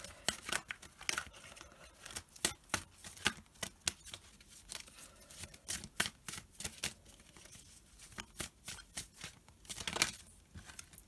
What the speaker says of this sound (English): Cards are really big to shuffle.